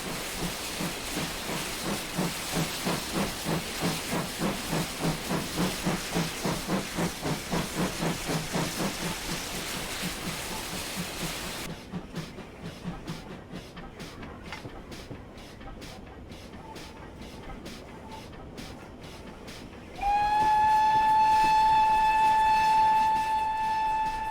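Steam train on the Dean Forest heritage railway, a rhythmic chuffing hiss that slows and thins out, then gives way to a steady, loud whistle-like tone near the end.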